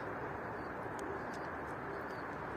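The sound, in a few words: pet pigeons cooing after being flown at dusk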